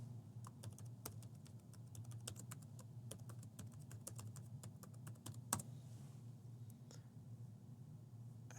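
A local admin username and password are typed on a computer keyboard as quick, soft, uneven keystrokes, close by but faint, over a low steady hum in a quiet room.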